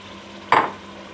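Cauliflower stems and potatoes frying with meat in a pan, stirred once in a single short sizzling scrape near the middle, with quiet kitchen ambience before and after.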